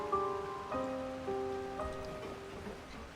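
Steady rain falls in the Genshin Impact game world, a soft continuous patter that runs throughout beneath sustained musical tones.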